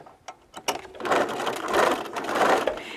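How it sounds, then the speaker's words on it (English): A sewing machine stitches two pinned fabric pieces together for a curved fabric basket, with a few faint clicks at the start followed by a steady, close mechanical whirring. "we're going to again stitch these 2 together"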